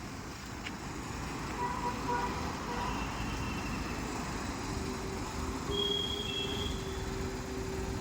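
A car reverses slowly into a garage, giving a steady low engine rumble throughout, with a faint thin tone briefly rising above it late on.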